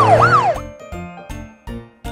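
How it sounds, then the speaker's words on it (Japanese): A cartoon police car siren wails in a rising and falling sweep, then switches to a loud, bright, stepped tone repeating in short bursts, close and clear. "みんな見て、パトカーだ。"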